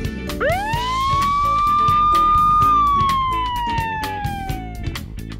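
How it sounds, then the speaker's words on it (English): A fire truck siren winds up sharply, holds a loud sustained wail, then slowly falls in pitch, with rapid rhythmic clicking underneath. "And these are sirens."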